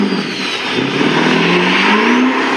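A Duramax diesel pickup truck's engine revs up steadily with a rising tone, loud and close, climbing through second and third gear without any talking.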